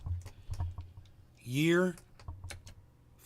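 Rapid, light clicks from a computer keyboard tap away in a quiet room, briefly interrupted midway by a short spoken word.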